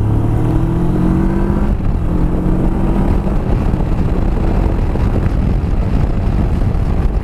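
A Kawasaki Versys parallel-twin motorcycle rides through traffic with a loud, continuous engine drone and rushing wind that barely lets up, the engine note climbing as it pulls and then settling into a steady roar.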